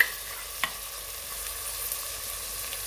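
Chopped onion with fresh green peas frying in a pan for a paneer veg biryani, giving a steady, fairly quiet hiss with one brief clatter early on and no voices.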